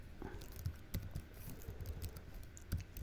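Someone types code on a computer keyboard with soft, close key clicks in an uneven rhythm, a few harder taps standing out. The typing is faint and carries on alone for about three seconds with no talking.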